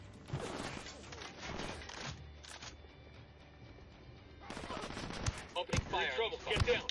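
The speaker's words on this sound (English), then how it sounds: "Opening fire." Bursts of rapid gunfire from a PS4 open-world shooter fight against cartel forces, loud sharp volleys with clattering impacts, a lull in the middle before heavier firing resumes, under game music and shouted callouts.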